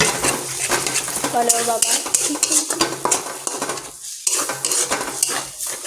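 Carrots and egg are stir-fried in a pan with a continuous close sizzle, punctuated by repeated clinks and scrapes of a utensil against the pan. A voice speaks briefly over the cooking.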